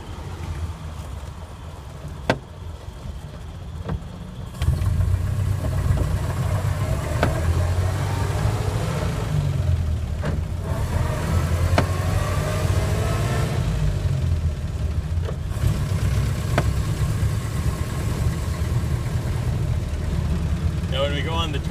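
A 1928 Ford Model A Tudor Sedan engine running while driving, a low steady mid-pitched drone that steps up louder after a few seconds, with occasional clicks and a voice talking over it.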